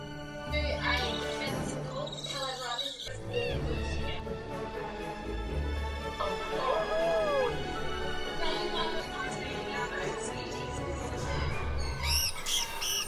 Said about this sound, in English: So these are all Southeast Asian birds